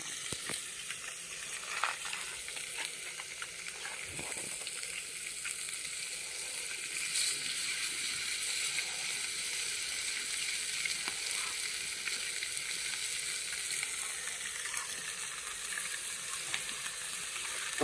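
Village-style fish fry sizzling in oil, a continuous moderate crackle with scattered pops and light clinks, steady from start to finish with no voices.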